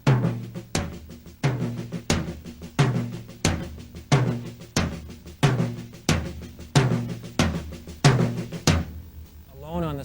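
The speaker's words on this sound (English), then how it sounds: "I'm going to spread this out on my toms so you can hear the difference in the sticking." Paradiddle sticking spread across drum toms: sharp, close hits fall in evenly spaced groups with strong accents at a steady tempo, played without any voice.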